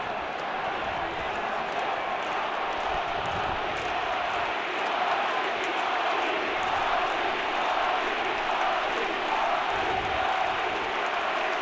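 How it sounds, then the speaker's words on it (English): Stadium crowd at a Boston Red Sox vs. Cleveland Indians playoff game after Cleveland clinches the series sweep, a huge sustained roar of voices with chanting blended in, steady and loud throughout, with a broadcaster talking over it. "And you hear the crowd with the chant of Poppy."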